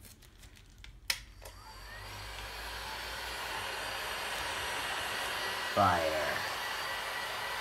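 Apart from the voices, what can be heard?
heat gun blowing on a paint pour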